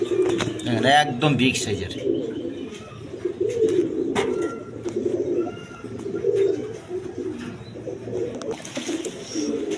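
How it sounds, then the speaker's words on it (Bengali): Wren pigeons coo in a low, steady murmur beneath near, continuous male speech at a pigeon market. "দর্শক এখানে একটা রেন কবুতর আছে"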